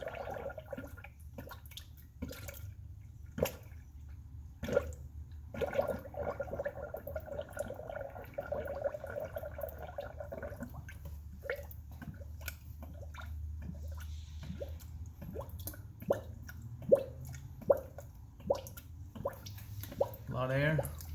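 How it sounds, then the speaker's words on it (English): Concentrated coolant pours and gurgles into a vehicle cooling system with irregular drips and bubbling glugs, fairly quiet and close, while someone talks over it. "Now I'm gonna put this full concentrated coolant in."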